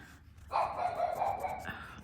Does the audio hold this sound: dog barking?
yes